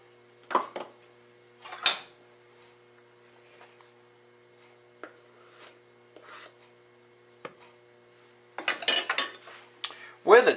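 Flour for chocolate chip cookies is mixed by hand in a mixing bowl, heard as sparse, close scraping and clinking strokes of a utensil against the bowl with quiet gaps, growing busier toward the end.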